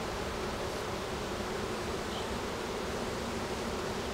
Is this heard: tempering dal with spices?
no